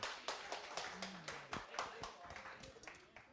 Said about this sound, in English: I don't think that deserved an applause, but thank you.